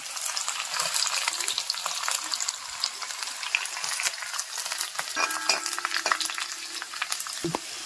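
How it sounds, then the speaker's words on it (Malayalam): Steady coconut oil sizzling as chopped ginger and garlic fry, with crackles and occasional stirring clinks, close by, no voices. "അരിഞ്ഞ് വെച്ചേക്കുന്ന ഇഞ്ചിയും വെളുത്തുള്ളിയും കൂടെ നമുക്കിടാം."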